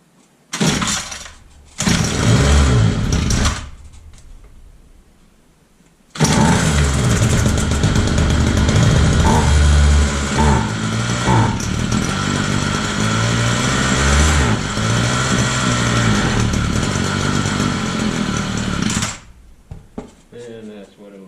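A Homelite string trimmer with a carburetor fault starts and idles, then is revved: loud close two-stroke buzz that bogs down and dies, after a short first burst and a silent gap, with spoken talk over parts of it.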